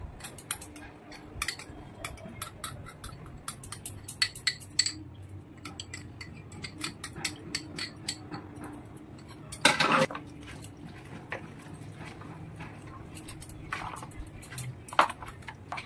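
A spoon mixing a spice marinade in a bowl: irregular light clinks and taps, mostly soft with a few sharper knocks, scattered close by over a quiet background.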